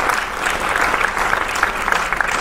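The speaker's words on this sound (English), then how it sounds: "let's give a round of applause" Audience applause at the end of a live talk, dense steady clapping from a crowd for a couple of seconds, fairly loud and close.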